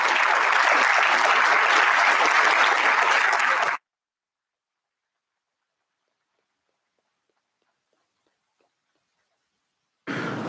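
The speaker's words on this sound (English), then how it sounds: "Give them a round of applause." Dense, loud applause from an audience at an intercollegiate ethics bowl national championship, a steady roar of clapping lasting several seconds that cuts off abruptly into silence before a brief burst returns at the end.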